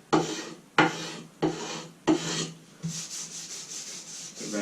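A blade scrapes along a wooden bow stave in four firm, rasping strokes about a second apart, then quicker, lighter scraping follows close up.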